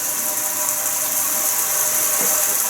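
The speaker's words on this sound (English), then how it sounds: "You'll start to hear the pipes cracking. That means that the hot water's coming." Hot-water pipes in an old vintage house crack and tick as hot water starts to arrive, a faint creak rising over a steady, loud rushing hiss with no voices.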